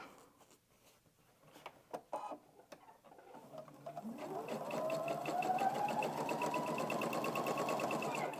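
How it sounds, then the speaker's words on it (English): A home sewing machine fitted with a quarter-inch foot stitches along the short side of a fabric Easter egg table runner; a few light clicks lead into a steady, even mechanical hum that runs unbroken to the end. "Just stitching along on one of those short sides"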